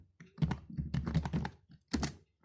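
Typing on a computer keyboard, a close, dry run of irregular key clicks and thunks in two short bursts, alone without talk.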